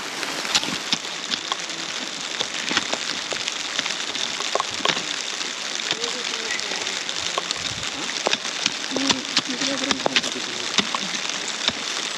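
Steady rain patters and crackles across a surface, with scattered sharp drips standing out from the constant hiss.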